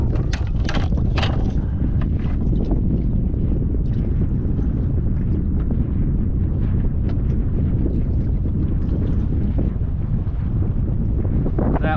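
Strong wind buffeting a boat at night in the Florida Keys, a loud constant roar and rumble against the microphone throughout, with a few brief knocks early on.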